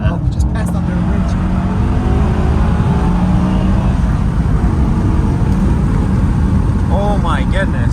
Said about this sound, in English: let's crack the windows and listen to how this car sounds a little bit